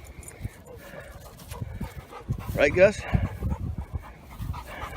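A young dog, about a year old, pants and makes small whimpering sounds close by outdoors at sunrise, while someone speaks to it.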